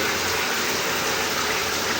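Water runs continuously from a shower heater's showerhead, a dense, loud, steady hiss and spray without breaks.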